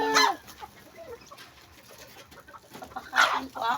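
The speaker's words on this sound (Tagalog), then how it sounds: "Ito po yung mga manok namin." Chickens cluck and call nearby, with bursts of louder clucking at the start and end over a low background murmur.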